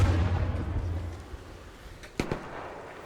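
A grenade blast in the ARC Raiders video game: one sharp, loud burst with a short tail, standing out over a low rumbling game backdrop.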